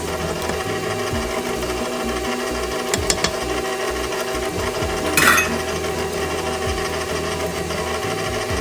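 Electric hand mixer on its low stir setting, blending pumpkin cream cheese muffin batter with spices, a steady mechanical whir with a few short clicks and scrapes, no talking.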